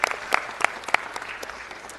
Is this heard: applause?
yes